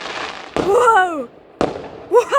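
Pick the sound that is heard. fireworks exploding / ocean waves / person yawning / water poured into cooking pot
fireworks exploding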